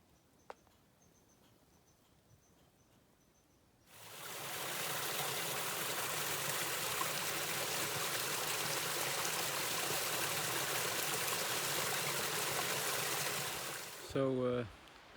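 At the edge of a frozen winter lake, after a quiet start, a steady rush of trickling, running water sets in and continues evenly for several seconds before a brief sound at the end.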